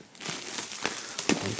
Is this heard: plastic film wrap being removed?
yes